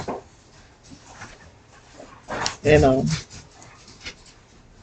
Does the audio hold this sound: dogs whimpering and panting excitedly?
yes